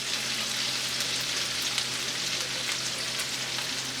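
Steady, dense sizzling of shrimp and peppers frying in a hot pan, loud and continuous with no talking.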